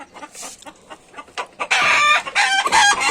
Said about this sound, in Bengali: এই যে মুরগি হচ্ছেন, এই যে সব